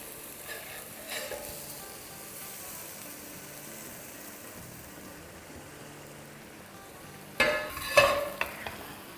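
Two dhaba-style aloo masala preparations are combined in a pan, with a low continuous sizzle and a brief spoon knock near the start, then a burst of loud scraping and clattering stirring near the end.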